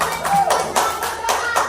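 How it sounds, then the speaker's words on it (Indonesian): A class of children clapping in a classroom, several rhythmic rounds of claps in quick bursts, close and lively, with voices mixed in. "Tepuk tangan untuk kerja."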